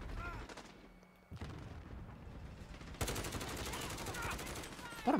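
Multiplayer gunfire on the Rust map in Call of Duty Modern Warfare, a rapid automatic burst of close, loud shots that takes over after a brief lull, with someone speaking in the mix.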